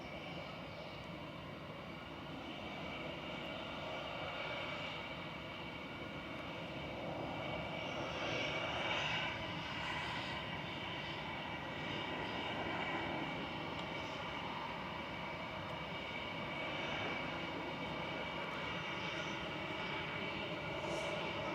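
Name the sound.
EasyJet airliner from Reus approaching Manchester Airport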